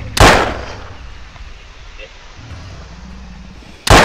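Gunfire in the 1998 video game Jurassic Park Trespasser: two loud, sharp shots, one near the start and one at the end, with quiet jungle ambience between them.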